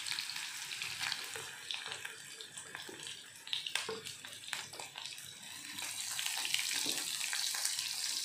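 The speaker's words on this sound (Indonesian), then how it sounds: "Ini bawang bombay yang sudah diiris kita tumis." Sliced onions fry in oil reused from frying chicken, a steady close crackling sizzle with occasional stirring and scraping, growing denser and louder toward the end.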